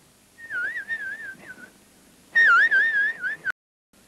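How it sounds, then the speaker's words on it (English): A warbling, wavering whistle is blown to recall a goshawk, first as a moderate phrase, then after a pause as a louder, stronger trill that cuts off abruptly, clear and close. "he could be recalled by whistle"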